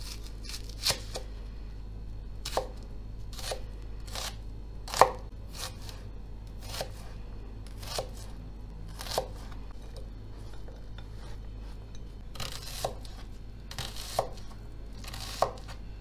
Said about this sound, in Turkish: İki orta boy kuru soğanı veya bir adet büyük soğan da doğrayabilirsiniz.